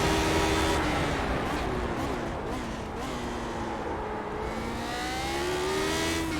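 Engine of a Lotus 79 race car circling Magny Cours in a racing video game, a steady high-pitched drone that rises and falls in pitch with gear changes, continuous and fairly even in level, with no speech.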